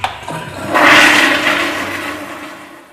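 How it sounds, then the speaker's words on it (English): A toilet flushes: a small click, then a loud rushing surge of water that peaks quickly and slowly drains away, heard alone with no voices. "it all starts with the flush."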